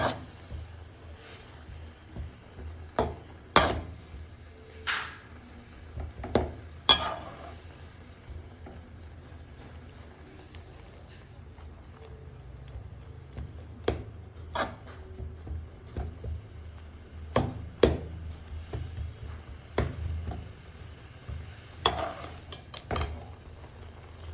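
Maggi noodles boiling in a pot with masala, stirred with scattered scraping and clinking of a utensil against the pot over a low bubbling bed, intermittent and fairly close, no talk.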